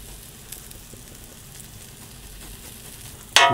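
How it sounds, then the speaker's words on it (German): Quiet, steady sizzling of ginger frying in a pan, with a sudden louder burst of sizzle near the end. "Lassen wir auch noch mal ganz kurz mit anbraten."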